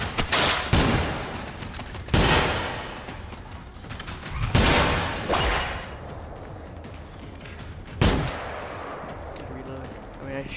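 Gunfire in the video game Generation Zero, several loud, sharp shots spaced a second or two apart with echoing tails and short rattling bursts, some quieter shots between, and a voice talking faintly underneath.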